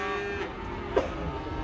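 A cow moos once, short and moderately loud, at a livestock auction in Uruguay, over a steady bed of crowd and room noise.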